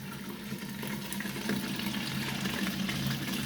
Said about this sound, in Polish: woda mi hałasuje właśnie z tego przepływu głównego